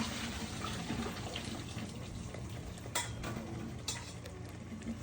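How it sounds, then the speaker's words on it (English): Water from a pot of cooked pasta pours into a sink strainer in a home kitchen, a continuous splashing rush with a few metallic clinks of the pot, fairly close. "Let's strain the pasta."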